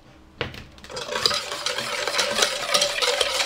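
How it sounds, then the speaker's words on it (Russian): A whisk beats apple pancake batter with kefir in a bowl: quiet at first, then a fast, continuous metallic clatter and swish, close and fairly loud. "Вот, хорошо перемешиваем как бы венчиком."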